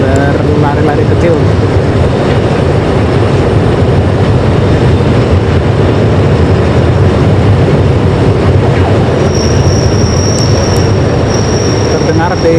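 A high-speed rail section slides along a flat wagon during slab-track installation in Indonesia, giving a loud, continuous rolling rumble with metallic grinding and a thin high squeal near the end.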